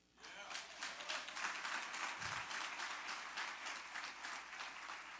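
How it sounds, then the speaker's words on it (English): A crowd at a Malcolm X Day commemoration breaks into applause for the drummers, rising quickly into a sustained, even roar of clapping that holds without pause. "Let's give a round of applause to our drummers."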